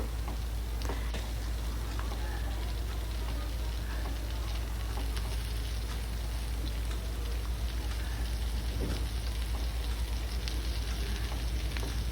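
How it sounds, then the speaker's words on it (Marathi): Stuffed bitter gourds frying in a pan make a dense, constant crackling sizzle like rain on a surface, with a steady low hum beneath and faint scrapes as they are turned. "पुन्हा मी हे कारली सगळी पलटवून घेते"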